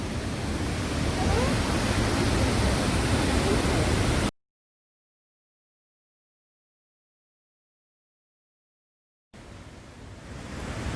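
Cheonjiyeon waterfall on Jeju Island at night gives a steady, dense rush of falling water, heard close and constant, then broken by a stretch of total silence before the roar returns.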